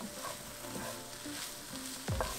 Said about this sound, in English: I'm going to add half of it the pan. We're going to wilt that and then add the other half.